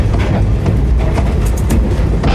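A train rumbles loudly and continuously, with heavy low-end roar and scattered rattling clatter throughout.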